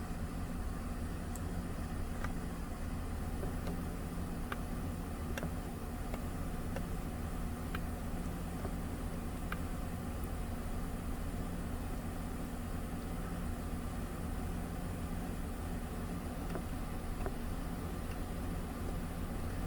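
2011 GM truck engine idling after a no-start repair: a steady, low, even rumble with faint hiss, constant and unchanging throughout, heard from nearby with no voices.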